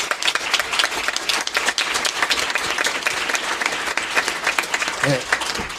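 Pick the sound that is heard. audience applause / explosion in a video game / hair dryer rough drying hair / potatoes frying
audience applause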